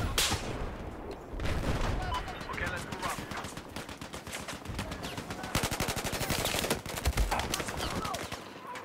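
M16A4 rifle fire in Battlefield 4 on Golmud Railway in Rush mode, with rapid bursts and sustained strings of close gunshots amid battlefield noise and occasional louder impacts.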